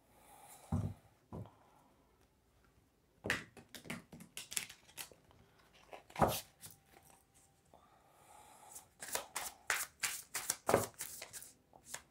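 Tarot cards being shuffled by hand, with bursts of quick riffling flicks and slaps that come close and fairly loud, separated by short quiet pauses, no talking.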